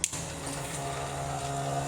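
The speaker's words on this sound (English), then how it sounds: "the oil extractor is already running" An electric 12-volt oil extractor pump runs during an oil change on a BMW E46, giving a steady, even motor hum with a faint whirring buzz throughout after a brief start-up click.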